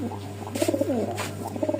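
A racer pigeon at a breeder's farm sale coos in soft, rolling throaty phrases, close by, over a steady low hum.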